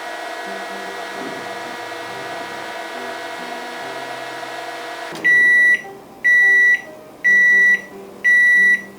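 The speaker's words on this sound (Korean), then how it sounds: "시작 버튼 한 번만 누르면 자동으로 30초 동안 전자레인지가 작동합니다" A microwave oven hums steadily as it runs a 30-second heating cycle, then stops and gives four loud, evenly spaced beeps, close by with no talking.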